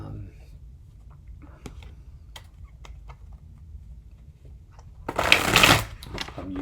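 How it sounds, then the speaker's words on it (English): Quiet rustling and small taps of handled gold foil tarot cards, then a brief burst of riffling as the deck is shuffled close by. "I shuffled the cards already, but I'm going to shuffle just a bit more."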